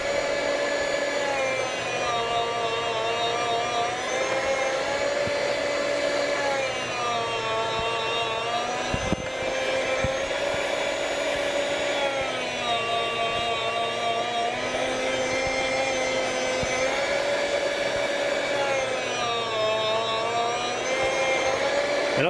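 A Chef's Choice 610 food slicer motor whirs steadily as it slowly cuts through a block of cheese, a loud continuous hum with gently wavering pitch and one brief clunk partway through.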